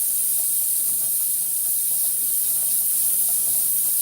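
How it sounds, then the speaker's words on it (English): A pressure canner in a home kitchen hisses steam continuously, a loud, even, high-pitched jet with a faint sputter underneath. "Yes, that's my pressure canner"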